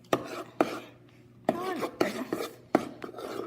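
A utensil stirs a slime mixture of shaving cream and glue in a bowl, making sharp scraping knocks at an uneven pace with soft squelchy rubbing between them. Voices sound faintly in the background.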